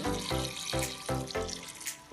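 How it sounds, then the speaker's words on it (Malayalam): Water is poured into a pot, splashing in a few uneven surges at close range. "ഇതിലേക്ക് വെള്ളം വെള്ളം ഒഴിച്ച് കൊടുക്കുക"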